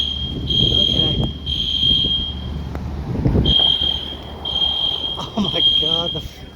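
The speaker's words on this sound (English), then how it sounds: "the fire alarm's going off." A fire alarm sounds during an HVAC smoke test at a fire department, its piercing high tone beeping in repeated long pulses over background rumble and voices.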